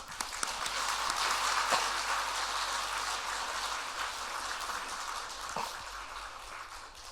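A church congregation at Sunday worship claps to welcome their senior pastor, a soft, continuous wash of many hands, fairly distant and even, with a few sharper claps standing out near the start.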